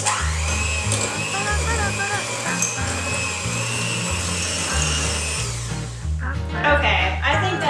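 An electric mixer churns Cadbury Caramilk cookie dough with a loud, steady motor whir that shifts pitch as the beaters work, then stops near the end. Voices chatter underneath.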